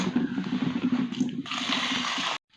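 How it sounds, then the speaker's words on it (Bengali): Red lentils washed in water make continuous close sloshing and pouring that stops abruptly at the end. "এই দেখুন এগুলিকে আমি ধুয়ে নিচ্ছি আর একবার ধুয়ে নিলে পরিষ্কার জল বেরিয়ে আসবে"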